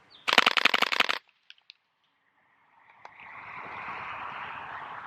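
A .22 caliber rifle fires orange tracer rounds in a fast, tight burst of about a dozen sharp cracks lasting under a second, followed by silence and then a low, steady outdoor hiss.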